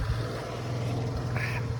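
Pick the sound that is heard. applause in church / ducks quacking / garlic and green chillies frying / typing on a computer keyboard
ducks quacking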